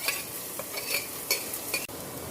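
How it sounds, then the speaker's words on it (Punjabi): Cumin, garlic and green chili paste frying in hot oil, a steady close sizzle broken by a few brief stirring scrapes, with no talk. "ਤੇਲ ਗਰਮ ਹੋ ਗਿਆ ਹੁਣ ਸਿੱਧਾ ਕਿ ਚਮਚਾ ਜੀਰਾ ਪਾ ਲਾਂਗੇ ਜੀਰੇ ਦੇ ਨਾਲ ਹੀ ਲਸਣ ਤੇ ਹਰੀ ਮਿਰਚ ਦਾ ਪੇਸਟ ਪਾ ਲਾਂਗੇ"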